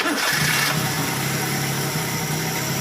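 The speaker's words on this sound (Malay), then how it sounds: "Dan langkah yang terakhir, korang boleh start kereta korang." A Perodua Kancil 850 car engine, just given a valve clearance adjustment, catches at the start and settles into a steady, close, mid-pitched idle hum for the rest of the moment.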